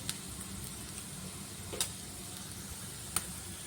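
Chicken with spices fries in a pan with a faint, even sizzle and a few scattered ticks, with no talking.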